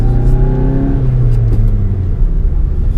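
A 2017 Volkswagen Golf GTI engine drones loud and steady from inside the cabin while driving on back roads, its pitch sliding down as the revs fall, with no voices.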